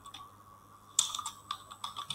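Typing on a computer keyboard: a quiet pause, then a quick burst of close, crisp key clicks in an uneven rhythm, with no voices.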